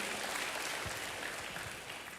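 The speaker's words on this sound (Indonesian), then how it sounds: "Berikan tepuk tangan dulu bagi Tuhan." Congregation clapping together in a church service, a steady wash of applause sustained at even loudness throughout, with no speech over it.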